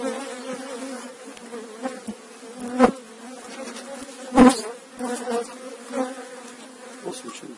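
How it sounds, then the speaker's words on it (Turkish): Honeybees swarm and buzz loudly around an opened hive on a lightly windy day, a dense continuous hum with a few sharper close passes as individual bees fly near. "Ancak hafif bir rüzgar var. O yüzden arılarımız kızıyor."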